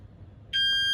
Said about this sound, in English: So it's only one beep, and set it to a random amount of time.